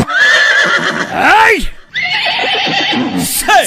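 A horse neighs in a long, loud whinny that rises and falls, set within a Tamil devotional song for a Karuppasamy Thursday puja, with singing and music continuing around it.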